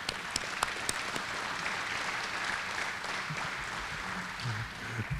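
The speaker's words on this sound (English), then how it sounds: "let's give them a round of applause for the work they've done." Sustained applause from a crowd at a chamber of commerce luncheon, steady clapping throughout with no speech over it.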